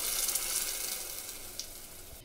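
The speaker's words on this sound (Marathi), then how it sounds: "वाटलेला मसाला घालायचा" Ground masala sizzles as it goes into fried onions for a Karwar-style red snapper (tambusa) fish curry, a steady close hiss with a brief sharper spit near the end.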